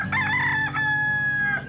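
A heritage-breed rooster crows once in a long, strained cock-a-doodle-doo, close and loud, with a rising start and a held, fading end, and no talk over it.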